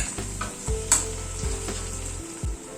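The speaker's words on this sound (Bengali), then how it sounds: "আবারও মিনিট খানেক মতো সব মশলাগুলোকে একসাথে একটু ভেজে নিলাম।" Ground spices fry together in a pan with a soft steady sizzle, broken by a few quick stirring scrapes, heard close and alone.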